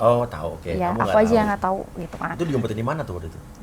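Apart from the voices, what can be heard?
No distinct noise like a dog, phone or traffic.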